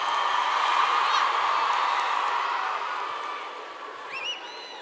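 A large festival concert audience at the Viña del Mar song festival applauds and cheers in a steady, loud wash that slowly fades, with a few whistles near the end.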